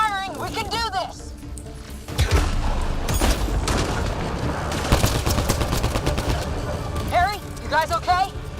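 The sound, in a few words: gunfire in Mass Effect Andromeda video game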